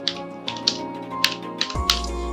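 Keys clack on a computer keyboard while a search term is entered in Adobe Premiere Pro, a handful of sharp, separate taps spaced irregularly over a quiet room hum.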